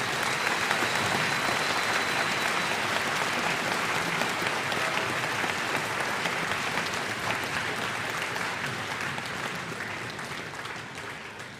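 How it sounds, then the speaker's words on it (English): A school Veterans Day audience gives a round of applause honoring veterans from the Army and Navy, steady dense clapping filling the hall and tapering slightly toward the end. "Please give them a round of applause."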